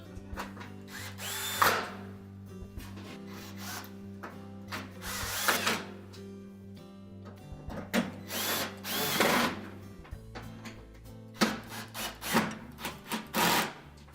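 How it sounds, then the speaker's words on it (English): A power drill drives retaining screws back into a Whirlpool range during a cooling blower kit replacement, giving several short, close whirring bursts with brief gaps between them. "And then reinstall the retaining screws."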